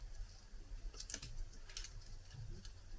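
Keyboard typing on a computer as a word is entered into an online translator, a quick run of light clicking keystrokes in irregular bursts, close and fairly quiet, with no talking.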